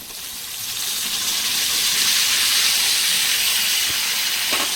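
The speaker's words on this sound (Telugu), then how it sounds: "ఇది ఇంకా ఫ్రై అయిన తర్వాత ఇప్పుడైతే టమాటాలు వేసేసుకుందాం" Tomatoes frying in a pan for a tomato, green chilli and egg curry, a steady sizzling hiss that swells over the first couple of seconds and holds, with no voices over it.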